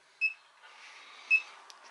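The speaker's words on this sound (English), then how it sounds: "Turn off that alarm." An alarm gives two short, high beeps about a second apart in a quiet room, with a faint hiss between them.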